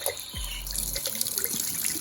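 Water gushing from a household tap after the supply is turned back on, a steady hiss of flow with a brief low thump as air clears the pipe.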